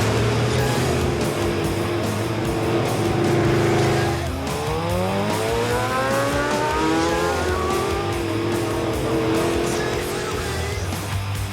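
Classic pre-1960 American cars with V8 engines cruise Cuban streets, a steady engine rumble that revs and sweeps past at moderate distance, with a tonal musical layer running underneath.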